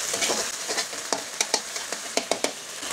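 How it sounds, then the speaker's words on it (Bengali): An egg fries in an ordinary iron kadai with a steady soft sizzle, punctuated by sharp clicks of a utensil scraping the pan. "যখন ডিমটা একটু ভাজা হয়ে যাবে"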